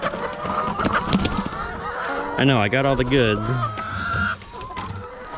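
Free-range hens squawk and cackle around a feeder in a flock of a thousand, a loud burst of wavering calls close by, with someone talking over and between them.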